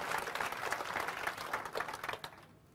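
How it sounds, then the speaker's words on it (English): Audience at a conference on the commons breaks into applause, a dense patter of many clapping hands that holds steady and then tapers off into quiet at the end. "I really think we should applaud the organizing committee for this conference"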